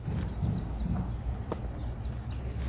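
Horse standing for a bath, with steady clip-clop hoof steps on wet ground and a few faint bird calls in the background.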